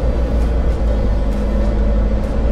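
Brand-new Mitsubishi Triton engine running with snorkel and turbo, heard from inside the cab with the window down: a loud, steady deep rumble with a constant low drone of induction noise and faint airy whooshes above.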